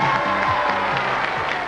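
A French television game show studio audience from 1990 applauds the host in a dense, steady wash of clapping with cheers and whoops, loud and sustained throughout.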